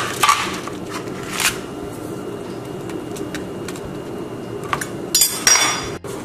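Baked zucchini, cauliflower and pineapple squash boat served onto dishes, heard as scattered clinks, knocks and scrapes of utensils against plates and pans over a quiet room, with a sharper cluster of clatter near the end.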